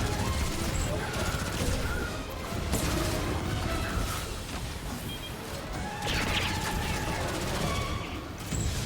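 Heavy Destiny 2 firefight with continuous overlapping gunshots, crashes and mechanical clatter, loud and busy from start to finish, with some talking in the background.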